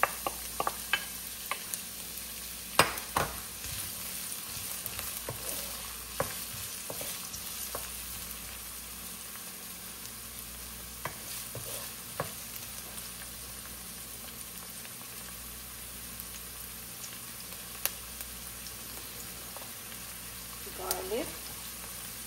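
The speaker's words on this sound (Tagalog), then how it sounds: "magisa na tayo ng ating sibuyas" Sliced onions sautéing in a pan as the first step of a Filipino mung bean stew with green papaya and malunggay, a steady close sizzle with a few clinks of a stirring utensil and faint speech at moments.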